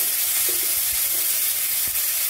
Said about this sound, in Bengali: এবার আমি এর মধ্যে এই দেখুন মুগ ডালটা প্রথমে একটু ভেজে নেব।